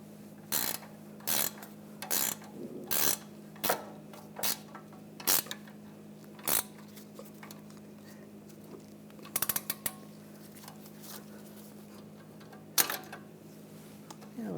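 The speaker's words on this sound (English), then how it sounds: "I'm going to use a 15mm ratchet wrench and a 5mm hex socket." 15mm ratchet wrench tightening a rear sway bar link nut on a 2009-2017 Volkswagen Tiguan, a close series of rapid clicking ratchet bursts with pauses, over a steady background hum.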